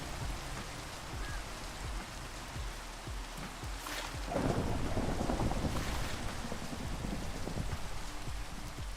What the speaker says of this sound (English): that lightning was too close